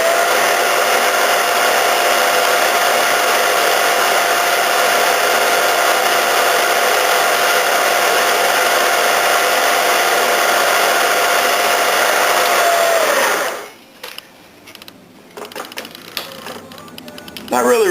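A spinning tool polishes a Yamaha Blaster engine shaft with a loud, continuous, close whine that holds steady for about thirteen seconds, then stops abruptly, leaving faint clicks and handling noises.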